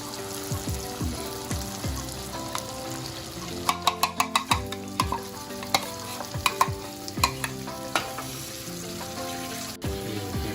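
Black lentils (maash ki daal) being stirred into fried masala in a pot: a spoon scrapes and clatters against the metal in irregular bursts over a steady bed of sizzling, and sharper clinks cluster near the middle.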